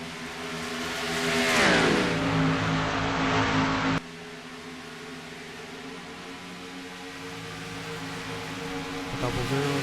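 Race cars on an oval in a racing video game, modelled on a stock car event at Atlanta, accelerate in a loud swelling engine whine that fades slightly, with a second car sweeping past near the end.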